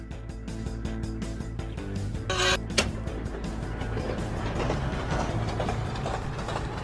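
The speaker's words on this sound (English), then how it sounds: "The train will allow you to journey to all new terrain" Train rolling on rails in the Cave Digger VR game, a steady low rumble with rhythmic clatter throughout and a brief bright squeal or clank near the middle.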